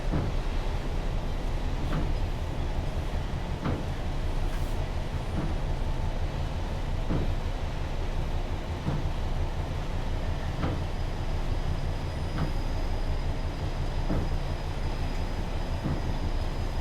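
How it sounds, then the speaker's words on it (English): Two DRS Class 66 diesel locomotives in a railway video game haul a nuclear flask train on a rainy line, giving a steady, continuous rumble of engine and wheels with regular rhythmic clicks from rail joints. "With the power of 2 locomotives behind us, we should be able to get up this relatively steep"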